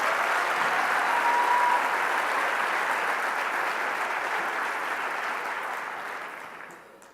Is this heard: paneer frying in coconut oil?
no